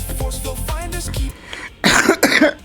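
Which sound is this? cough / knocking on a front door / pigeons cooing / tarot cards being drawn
cough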